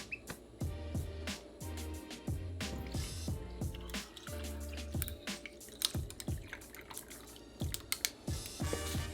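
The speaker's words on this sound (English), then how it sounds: "And we are ready to pour." A cucumber jalapeño margarita is poured over ice into a salt-rimmed glass, giving soft, close, irregular drips, splashes and small clinks that continue for several seconds with no talking.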